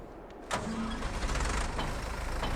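A tractor engine in Farming Simulator 22 cranks with a sharp start, then settles into a loud, steady mid-pitched idle that holds to the end.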